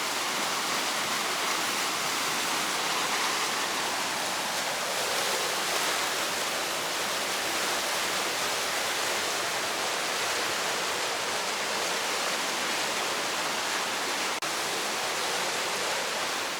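The Strid on the River Wharfe near Skipton, a narrow, powerful rushing river, roars in a steady, dense wash of water noise, close and unbroken throughout.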